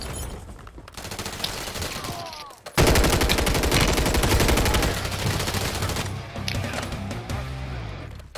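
A WSP-9 submachine gun firing in Call of Duty Warzone 3, a loud, rapid automatic burst that starts abruptly and runs several seconds before tapering, with quieter game sounds around it.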